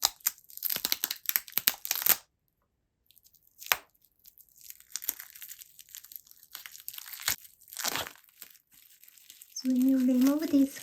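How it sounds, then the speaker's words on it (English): Plastic vinyl wrap peeled from a Chanel No 5 soap bar gives bursts of close crinkling and crackling, broken by a silent gap, with a short voiced sound near the end. "So when you remove this plastic vinyl from the soap"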